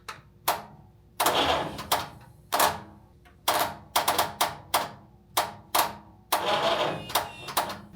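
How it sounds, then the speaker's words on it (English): Starter on a 1968 Dodge D200 engine cranking in short, loud bursts, some quick clicks and some longer whirring turns, close up with pauses between attempts and no talking. "so the starter turns over"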